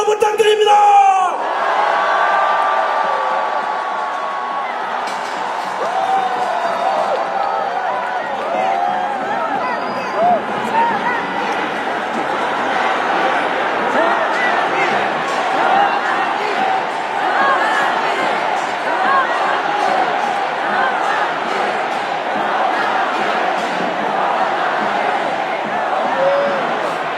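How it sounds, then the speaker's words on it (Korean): A large outdoor street rally crowd roars with sustained cheering and yelling for an arriving speaker, a loud continuous wall of voices with scattered whoops throughout. "선생님 오실 때 뜨거운 함성 부탁드립니다!"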